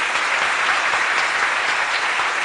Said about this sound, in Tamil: ஒரு பெரிய கரகோஷம் கொடுத்து வரவேற்பு.